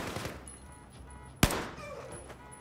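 A single sharp, loud gunshot from Battlefield 4 cracks out amid a murmur of game ambience and lighter distant shots.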